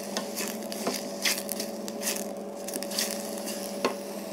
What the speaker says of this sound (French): on voit que les champignons et les oignons commencent à bien suer